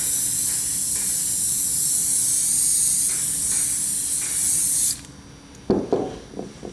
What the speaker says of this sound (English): And then hairspray it again.